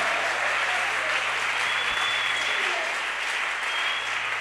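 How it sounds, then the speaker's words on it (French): Church congregation applauding during a sermon, a steady wash of dense clapping filling the hall at even loudness over a faint electrical hum. "Applaudissez pour le Seigneur."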